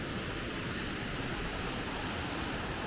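Monkey Falls waterfall in Valparai pours with a constant, even hiss of rushing water, heard from some distance and fairly soft, with no voices.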